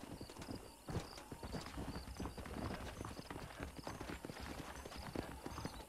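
Rapid clip-clop of hooves on a hard surface with a faint whinny, steady and close, a horse trotting along in the video game Red Dead Redemption 2.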